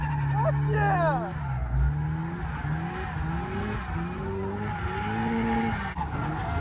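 Drift car tires skid and squeal on a hot entry at a Lock City drift event, long wavering screeches over a revving engine, continuous and fairly close.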